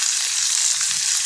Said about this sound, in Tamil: இது எல்லாமே நல்லா ப்ரௌனாக வறுத்து வரணும்.